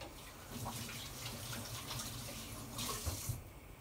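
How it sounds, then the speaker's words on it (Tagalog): Tap water runs steadily into a kitchen sink while hands are washed, a close, even splashing stream with a brief surge of heavier gushing near the end and no talking. "Maghugas lang ako ng kamay"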